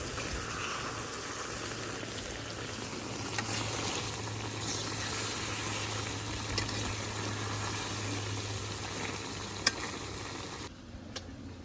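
Eggplant frying in oil in a pan in a village kitchen makes a soft, even hiss and crackle that runs on for several seconds at low level over a faint steady hum, then cuts away near the end.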